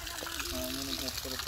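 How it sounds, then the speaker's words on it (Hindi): Water pours and splashes steadily onto plants as they are watered and rinsed in a village courtyard, with people talking over it throughout. "तीन पौधों को पानी लगा लिया, अब चौथे को लगा रहे हैं, इसको नहला भी रहे हैं साथ में"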